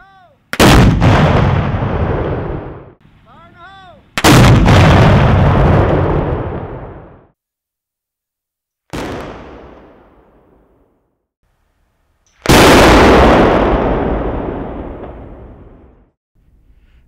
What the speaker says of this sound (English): The split-second detonation creates a loud boom that may be heard in the vicinity of the work.